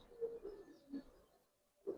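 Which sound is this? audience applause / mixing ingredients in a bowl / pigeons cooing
pigeons cooing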